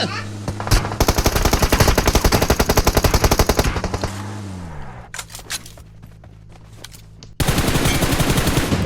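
Bursts of rapid automatic gunfire rattle in long strings from PUBG Mobile, broken by a few single shots and brief pauses.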